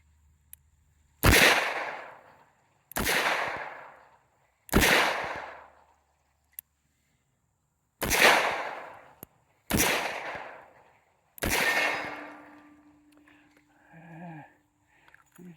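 Test-firing of handloaded rifle ammunition outdoors, six sharp loud gunshots spaced a second or two apart, each with a decaying echo tail, followed by faint voices at the end.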